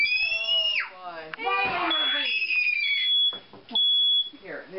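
A household smoke alarm shrills in piercing repeated high beeps, loud and close, while children and adults chatter and shout over it.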